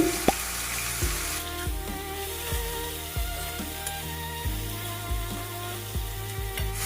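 Cut eggplant frying in a pan with salt, a soft steady sizzle underneath a series of regular low knocks and scrapes as the pieces are turned, close and moderately quiet.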